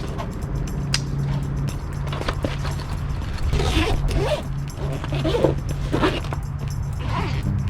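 Zipper being drawn on backpack straps, several scratchy rasping pulls over a steady outdoor rumble, close and moderately loud.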